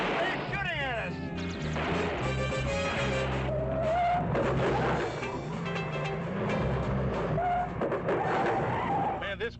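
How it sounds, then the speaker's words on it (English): Tyres skid on a car in a 1959 horror sci-fi movie scene, a dense, loud stretch of squeals and engine noise with crash-like bursts, heard under music and talk throughout. "Man, this car's a real dud."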